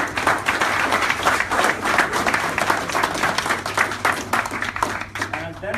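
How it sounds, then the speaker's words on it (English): An audience claps and applauds steadily for several seconds, a dense and loud wash of hands. "Can you give a big round of applause?"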